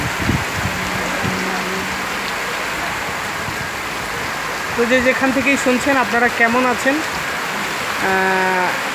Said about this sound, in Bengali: মোটামুটি জোরেই বৃষ্টিটা নামছে